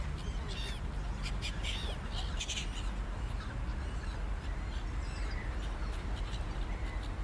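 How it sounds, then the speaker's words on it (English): Video game gulls in Tourist Bus Simulator call and squawk repeatedly over a steady background wash of ambient noise, at a moderate distance. "There's a lot of gulls making a lot of noise"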